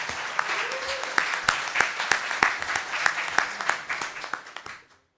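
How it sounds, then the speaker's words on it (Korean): A roomful of people at a policy seminar applaud steadily for about five seconds, the clapping dense and even before it fades out. "큰 박수로 맞으시기 바랍니다."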